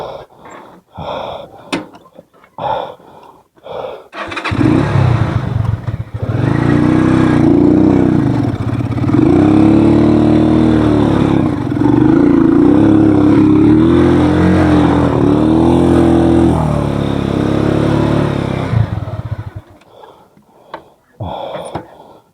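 A motorcycle engine roars and strains under load as it climbs upward for about fifteen seconds, loud and close, with brief voices before and after.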